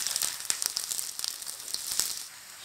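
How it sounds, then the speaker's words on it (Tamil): Garlic for a garlic pickle fries in hot oil, giving a steady crackling sizzle with frequent sharp pops and spits, close and fairly soft, with no talking. "நம்ம இதில் பொரிக்கிறதுக்கு போட்டாச்சு. அது பொரியட்டும், இது நல்லா வெந்துடட்டும்."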